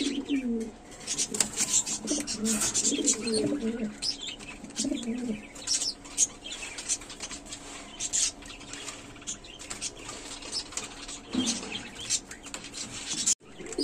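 Beauty Homer pigeons, a running pair, coo in low soft bursts among scattered chirps and light rustling, fairly close and quiet, with no one talking.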